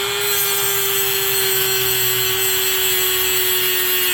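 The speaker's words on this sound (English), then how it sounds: "We don't want to cut all the way through and scar up the hub. Just cutting kind of at an angle." A power cutting tool grinds at an angle into a press-in rear wheel bearing on a 2000–2006 Lincoln LS, giving a loud, steady, high whine with a constant tone that runs unbroken throughout.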